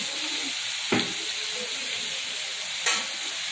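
Parwal and potato sabzi with turmeric, salt and garam masala sizzles in a pan, a continuous close hiss broken by two brief scraping stirs of the spoon.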